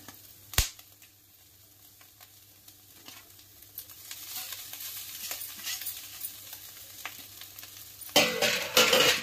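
Egg noodles are stirred and tossed in a hot pan, giving quiet sizzling with scattered scraping and clinking taps, one sharp knock early and a louder burst of frying near the end.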